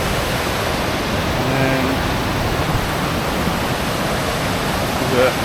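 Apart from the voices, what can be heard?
Tadlo waterfall and river rapids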